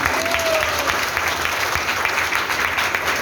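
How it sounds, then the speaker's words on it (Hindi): A large audience at a business training event breaks into loud, sustained applause, a dense continuous wash of clapping filling the room without pause. "एक बार जोर जोर तालियां बजाएंगे।"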